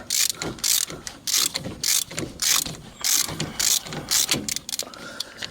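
A ratchet wrench loosens a nut on a GMC steering rack during bushing work, clicking in quick repeated bursts of strokes with short pauses between, loud and close, with no voices.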